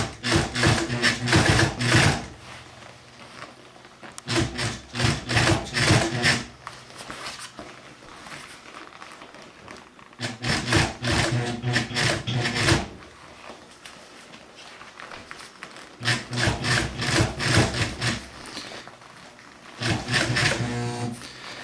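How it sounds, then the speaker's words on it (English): A sewing machine stitches a leather upholstery cover for a hot rod, running in several loud bursts of rapid stitching separated by short pauses, with no one talking. "This is kind of where the servo sewing machines, I think, probably fall short as opposed to the clutch style ones."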